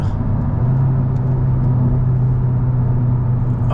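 A Mazda 3 MPS with a 2.3-litre turbo engine pulls hard under acceleration, a loud, steady engine drone with a strong low hum heard from inside the car, no talking over it.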